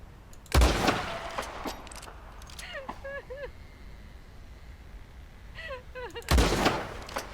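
Two loud, close gunshots ring out several seconds apart in the video game Red Dead Redemption 2, and thin whistling calls can be heard in between.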